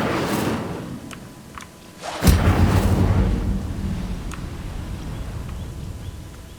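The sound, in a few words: Incendio fire spell in video game Hogwarts Legacy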